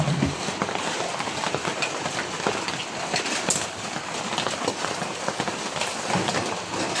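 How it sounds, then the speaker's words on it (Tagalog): Steady heavy rain, a dense continuous hiss of drops pouring down, loud and unbroken throughout. "palakas ulit ang ulan"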